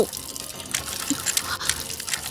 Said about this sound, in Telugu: ఆ ట్యాప్ కారుతూనే ఉంది